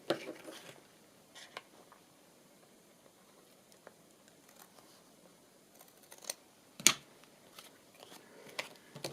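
Scissors snip paper while trimming excess from a handmade collage tag, giving a few quiet, sparse cuts and rustles close up with one sharper snip near the end.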